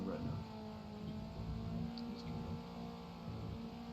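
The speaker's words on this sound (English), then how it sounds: "we should just mute the sound effect on the car because obviously, sadly, it's overpowering people when they're talking" Car engine from the racing video game Circuit Superstars, a steady droning hum with tonal whine held throughout at moderate level, running under people talking.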